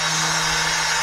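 A drill bit chucked in a router bores straight through wood, giving a steady, loud, high-pitched whine with a constant motor hum that runs alone for the full second.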